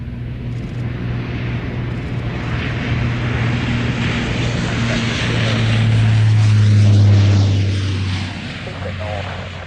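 A fixed-wing aircraft takes off from runway 27 at the Royal International Air Tattoo 2022 air show, its engine drone building to a loud peak before easing off, with a voice over it.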